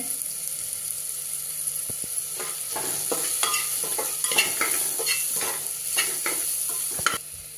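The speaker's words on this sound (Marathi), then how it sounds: "आता एक एक करून बाकीचे सगळे मसाले घालूया।" A spoon stirs spices into ridge gourd curry frying in a pan, with a steady sizzle and repeated scraping and clinking strokes against the pan, close and clear.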